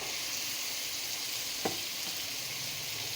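Chicken pieces fry in spice paste for chicken kosha, giving an even close sizzle with a single short clink of a utensil partway through.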